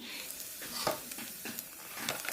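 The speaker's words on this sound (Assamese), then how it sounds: "কেৰাহীখনত কাটি ৰখা পিঁয়াজ আৰু তেজপাতখিলা দি অলপ ৰঙচুৱা পৰালৈ লৰাই তাত ধুই ৰখা মাংসখিনি" Pork frying with onion and bay leaf in hot oil in a wok, a steady sizzle broken by scraping stirs of a spatula against the pan, close and continuous.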